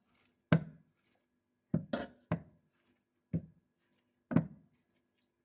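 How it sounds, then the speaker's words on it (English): A knife chops a peeled banana into small pieces on a board for a smoothie, giving six sharp, separate thuds at an irregular pace, close and clear, with nothing else between them. "you have to cut into small pieces and add them inside your blender"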